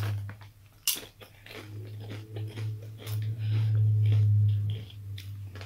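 Doritos chips crunch in a few close, sharp bites and chews over a low steady hum.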